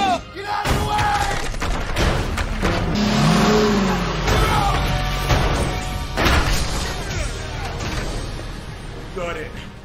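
An armoured money truck in a movie scene rams the truck ahead of it, engines roaring through a loud, sustained smash and grinding impact, with scattered bangs and a voice speaking under the din.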